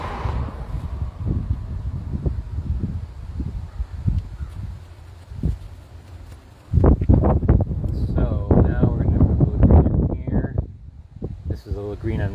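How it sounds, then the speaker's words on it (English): Wind buffets the microphone with low rumbling gusts beside a highway in Duluth, Minnesota, and a person talks over it in the second half. "You can also tell it's a little windy, and so I'm not sure if you can hear that"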